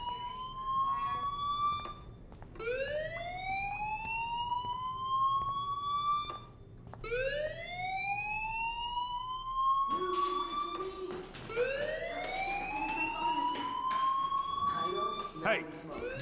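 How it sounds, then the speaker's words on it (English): A fire alarm sounds in the video game Life Is Strange, a repeated rising electronic whoop that swells several times in a row, loud and steady over a low background hum. "do you hear that fire alarm? That means you should be outside."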